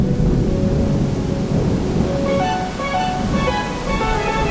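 Video game thunderstorm ambience mid-transition from clear weather, with a steady loud wash of rain and rumbling thunder, and tonal music notes gradually emerging above the storm in the second half.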